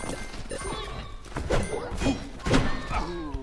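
Bombs go off in the video game Undermine as a few dull, thudding blasts in quick succession over a busy game soundtrack.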